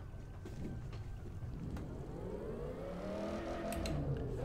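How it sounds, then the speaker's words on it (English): A car engine in The Crew 2 racing game hums low and steady during a test drive, with a rising whine as it builds revs; quiet and even, alone without voices. "Oh, listen to the engine purr."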